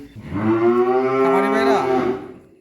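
A heifer calf on a dairy farm gives one long, loud, close moo lasting about two seconds, rising and then falling away, with no other sound.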